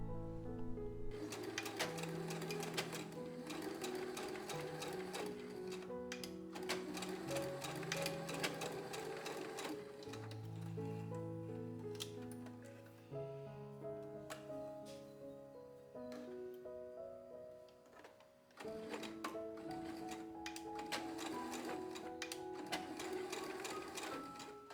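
A sewing machine stitching the waistband of a pair of pants, a loud close rapid mechanical whirr running in several bursts with brief pauses between runs.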